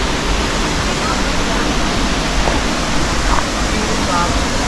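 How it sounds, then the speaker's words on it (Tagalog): Kabughayan Falls on Siquijor pours in a steady, loud broadband roar of falling water, continuous and close, with faint voices barely surfacing beneath the rush. "Second activity here in Siquijor, the Kabughayan Falls."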